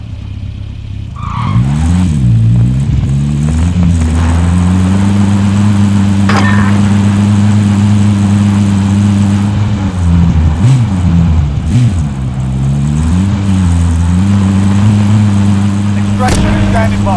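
A car engine drones steadily in Call of Duty: Modern Warfare Plunder mode, its pitch rising and dipping with revs and gear changes. Occasional tyre skids and knocks sit under a loud, close motor throughout.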